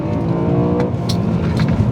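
BMW M3 engine, an E46 inline-six or E92 V8, revving hard toward 8,300 RPM, a loud, steady high-pitched howl sustained throughout without any speech.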